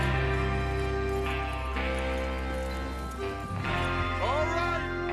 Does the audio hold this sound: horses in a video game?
yes